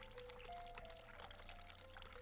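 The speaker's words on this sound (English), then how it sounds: "Turn on cold water." A faint, steady pour of cold water from a sink tap in The Cat Lady runs on evenly and quietly from start to finish.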